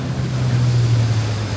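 A motorboat carries passengers along the Kinabatangan River in the Borneo rainforest during rain, its steady low engine drone and rushing water and wind filling the air loudly and continuously, with no voices.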